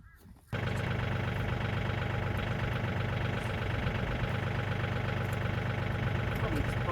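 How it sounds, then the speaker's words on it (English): A tractor engine starts up sharply and then runs steadily, a loud, close, continuous mechanical drone with a low rumble, on a farm while fencing, slashing and hanging gates. "I'll use a tractor and just pull it away that way"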